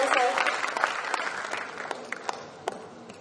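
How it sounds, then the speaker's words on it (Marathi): Audience applause welcoming a guest at a Marathi literary book-discussion event: dense, sustained clapping from a crowd throughout, gradually thinning toward the end with a few sharper isolated claps. "यांचे जोरदार टाळ्या वाजवून आपण स्वागत करूया."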